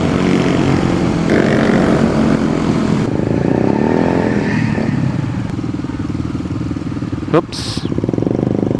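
A noisy motorcycle engine runs loudly and continuously nearby in a rough, droning tone, with wind buffeting and people talking over it.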